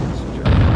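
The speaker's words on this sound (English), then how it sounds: "Holy crap. Big explosion." A big explosion in the Splinter Cell game during the return to the Chinese Embassy mission: a sudden loud, low boom rises out of steady rumbling background and sustains to the end.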